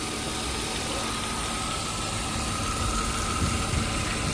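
A BMW engine runs steadily with a faulty viscous clutch fan hub, producing a constant close mechanical drone with a slight rise in rumble toward the end.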